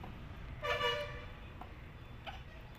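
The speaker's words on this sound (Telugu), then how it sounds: "లారీల సౌండ్, హారన్లు భలే వినపడిస్తాయి" A single short vehicle horn honk sounds from a road used by buses and lorries, rising briefly over a constant low traffic rumble, with a faint second beep near the end.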